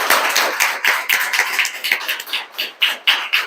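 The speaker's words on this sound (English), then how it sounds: "Please give them a big round of applause." Warm applause from a luncheon crowd at a women's club officer installation and charity check presentation, many hands clapping steadily and fairly close for several seconds with no talking.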